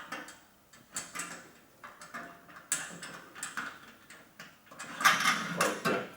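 Metal satellite dish bracket parts are bolted together by hand, giving a series of close, irregular clicks, clanks and ratcheting knocks of varying loudness, without talk.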